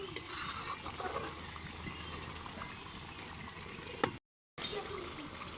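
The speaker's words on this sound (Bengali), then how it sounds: "একটু নাড়াচাড়া করে আবার ঢাকনা দিয়ে আমরা ঢেকে দিব" Beef being stirred in a pot over a clay stove, a steady wet bubbling and scraping texture running continuously, close and moderately loud, with a brief cut near the end.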